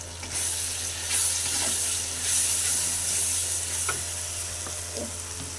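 Turmeric, cumin and red chilli powder sizzle with meat in hot oil while being stir-fried for a light meat curry, a continuous close frying hiss broken by occasional spoon scrapes and stirring clatters, with no talking.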